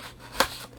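A single quick scissor snip cuts open the packaging of an M.2 NVMe SSD, a short sharp close cut in a quiet room.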